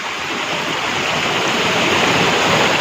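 Rushing water in a clear roadside stream roars steadily and close, a dense continuous wash of flowing water with no voices.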